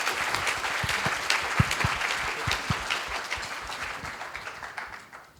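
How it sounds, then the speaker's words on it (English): A room full of people at a youth summit ceremony applauding team presentations, steady clapping that gradually thins and fades toward the end. "Let's give another round of applause."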